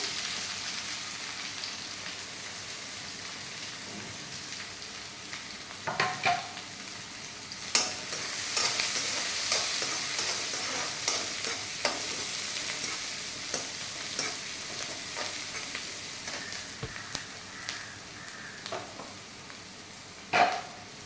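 Sliced onions fry in a pan until browned, a soft continuous sizzle with frequent scraping stirs and a few louder clatters of the spoon against the pan.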